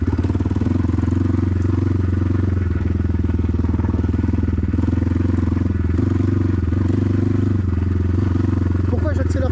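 A BTC T18 motorcycle engine runs steadily and loudly throughout the ride, a constant low throbbing drone with no clear revving.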